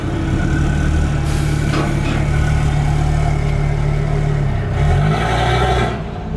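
Loud, close engine drone of an Audi RS3 in a dyno cell, a steady heavy roar held at high revs with slight rises and dips, briefly easing near the end.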